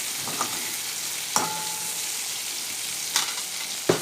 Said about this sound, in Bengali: মাছগুলো আমাদের ভাজা হয়ে গেছে মাছগুলো এবার তুলে নেবো আর বেশি ভাজবো না